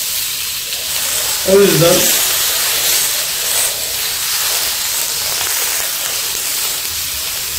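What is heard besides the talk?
marinated beef entrecote searing in cast iron pan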